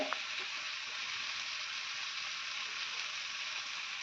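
Chillies fry in a pan with a steady, quiet, even sizzle that holds unchanged throughout, with no talk over it.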